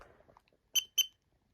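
A smoke detector running its self-test gives two short, sharp electronic chirps close by, separated by a brief gap, after a faint murmur in an otherwise quiet room.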